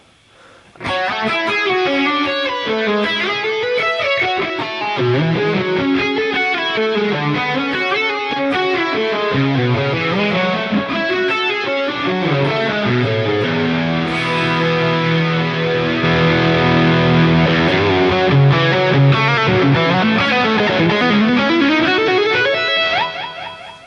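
Electric guitar with a Line 6 Pod Go double take effect plays a sustained, distorted melodic line drenched in doubling and modulation effects, loud and continuous for the whole stretch.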